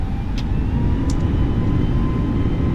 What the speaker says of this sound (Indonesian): Oke, kita take off dari landasan 23 Bandara Kuala Namu.